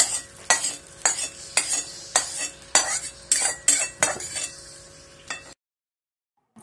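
A metal spoon stirs hot tempering into coconut chutney for dosa or idli, giving a series of sharp, rhythmic clinks and scrapes against the bowl with a faint sizzle underneath, close and without speech, then cutting to silence.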